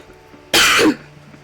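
A single harsh, raspy cough from a person with an itchy, congested throat: one loud, close burst of about half a second, with quiet before and after.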